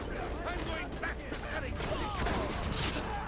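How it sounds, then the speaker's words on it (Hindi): Gunfire in the Assassin's Creed Revelations video game, a rapid volley of repeated shots in an irregular rhythm, heard under someone talking over the game audio. "अभी कैनन हमारी फिर दोबारा रीलोड हो रही है, इतनी देर हम गोलियां शोलियां चला लें।"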